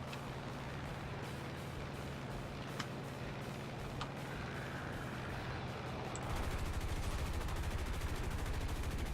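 Aircraft guns fire in War Thunder, a steady, fairly faint rattle of rapid shots under engine drone that grows denser and louder near the end.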